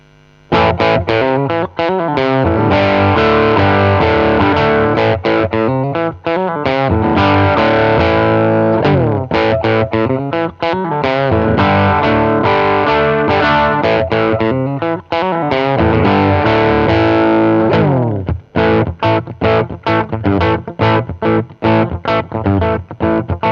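Heavily distorted electric guitar playing chugging riffs and sustained power chords, loud and alone, with abrupt stops and rhythmic palm-muted bursts near the end.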